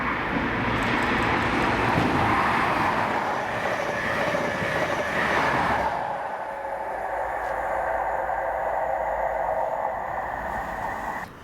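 A Class 43 HST passenger train, power cars 43015 and 43127, runs past Blackford in snow on the Aberdeen to Glasgow Queen Street service, a loud steady engine roar and rolling rumble that eases halfway through but carries on to the end.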